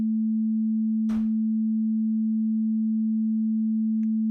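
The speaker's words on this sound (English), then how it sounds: "So here's a sine wave playing completely by itself." A pure sine wave tone plays alone, a single steady low hum held unchanged throughout, with only a brief click near the start and a faint blip near the end.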